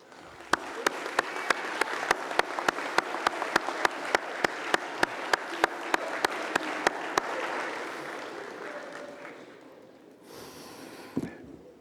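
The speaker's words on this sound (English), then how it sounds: "give them a round of applause" Graduates clap for their family and friends in the audience at a commencement ceremony, a dense wash of applause with sharp individual claps standing out at a steady beat, fading after about eight seconds before a short burst of noise near the end.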